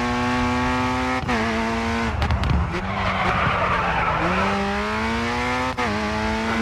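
Race car at full throttle in the Grid 2 racing game, a loud, close engine howl climbing through the revs with short shift dips, tyre squeal and skidding mid-run, continuous with no talking.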